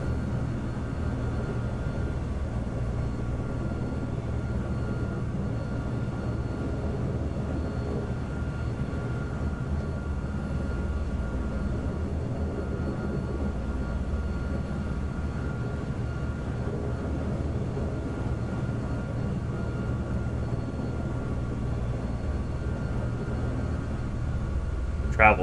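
Helicopter flying in the video game Nuclear Option, a steady droning rumble of rotor and engine held at an even loudness throughout, with no talk over it.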